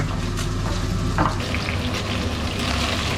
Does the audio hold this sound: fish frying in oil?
yes